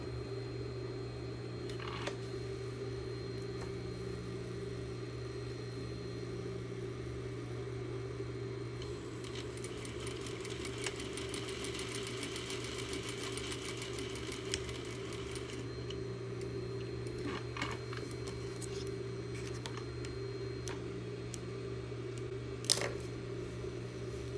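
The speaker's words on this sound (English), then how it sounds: "I'm going to sew my squares on first." A sewing machine stitching fabric squares: a quick burst of rapid, even stitching for about six seconds over a constant low hum, fairly faint, with a few isolated clicks.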